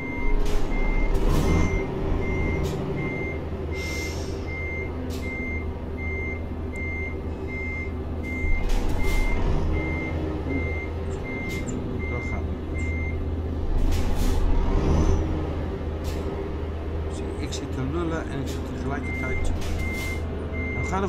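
A truck in the Euro Truck Simulator 2 game sounds its steady, regularly repeating reversing beeper over a low rumbling diesel engine, with short bursts of air-brake hiss, while someone talks along in Dutch.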